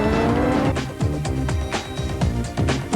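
Racing cars in the Super Nintendo game F1 Pole Position make synthesized engine drones with rising and falling pitch and repeated tire squeal bursts, loud and continuous with no talking.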